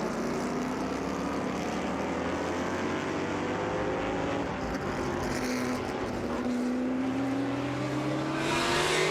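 Vintage race cars, among them a Ford GT40, climb through the S-curves at Virginia International Raceway, engines droning and rising in pitch as they pass at a moderate distance, with overlapping cars sweeping by in succession.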